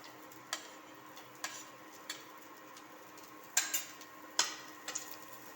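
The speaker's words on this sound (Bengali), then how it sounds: "গাজরটাকে ভালোভাবে নাড়াচাড়া করে নিতে হবে" Chopped carrot is stirred into Basanti pulao in a pan: faint, scattered scrapes and light clicks of a spoon against the pan over a soft, steady background hiss, with no voices.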